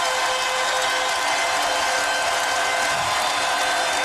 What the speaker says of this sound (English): Standing ovation for Iverson.